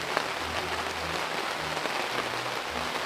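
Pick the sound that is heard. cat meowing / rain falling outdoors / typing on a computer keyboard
rain falling outdoors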